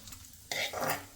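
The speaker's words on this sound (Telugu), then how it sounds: "నువ్వులు అనేవి చాలా ఫాస్ట్గా వేగిపోతాయి కాబట్టి లాస్ట్కి జస్ట్ అలా వేసి ఒక్కసారి తిప్పితే ఫాస్ట్గా వేగిపోతాయండి" Sesame seeds frying in a pan, a quiet hiss that jumps to a loud crackling sizzle halfway through as they are stirred, ending with a sharp clack of the spoon.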